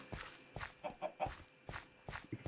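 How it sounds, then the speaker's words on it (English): Chicken in Minecraft clucking near a racetrack and stables, a string of short repeated clucks at moderate level with a few soft footstep-like taps between them, no talk. "Oh, chicken got out."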